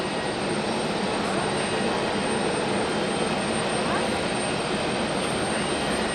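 A jet airliner landing at Hamburg Airport, a steady, loud broadband engine roar that holds unbroken throughout, with no clear voices over it.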